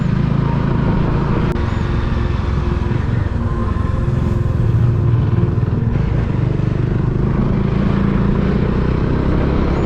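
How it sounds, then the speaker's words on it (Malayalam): A steady roar of engine noise close by, continuous for the whole stretch, as a Bajaj Dominar motorcycle passes on the road. "ദേ ഡോമിനാർ വരുന്നു"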